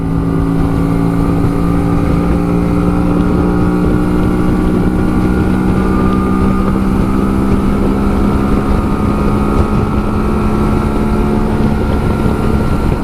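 A Honda Shadow 125 motorcycle engine cruises at a steady 90 km/h on a country ride, its loud, even drone holding one pitch with heavy wind rush over the microphone and no talking.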